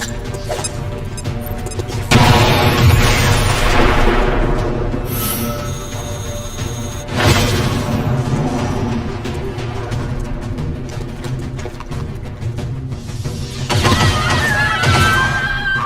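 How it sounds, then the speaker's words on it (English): Grenade explosions in XCOM 2 tactical gameplay: several loud booming blasts with crashing debris burst out over a steady rumbling game soundtrack, spaced a few seconds apart. "Grenade out!"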